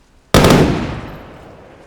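A single loud unsuppressed gunshot in a PVE survival shooter game, a sharp close crack that rolls into a long fading echo tail lasting over a second.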